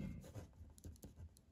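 Pen scratching across paper in short writing strokes during a classroom-style lesson, faint and close, with small bursts of scribbling and brief pauses between them.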